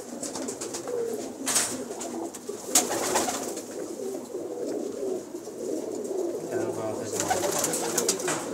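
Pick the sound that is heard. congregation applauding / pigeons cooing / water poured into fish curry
pigeons cooing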